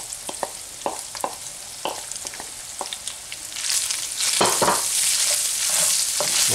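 Onions caramelize in a cast iron pan: a scrape of stirring ticks and taps at first, then the sizzle swells into a loud, steady hiss with more utensil knocks through the second half.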